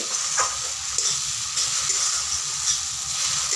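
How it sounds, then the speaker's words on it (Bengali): Spice paste for egg curry sizzles steadily in hot oil as it cooks down and releases oil, a dense continuous frying hiss with faint stirring scrapes underneath and no voices. "মশলাটা দেখো প্রায় কষানো হয়েই গেছে, মশলা থেকে কিন্তু আস্তে আস্তে তেল ছেড়ে দিচ্ছে"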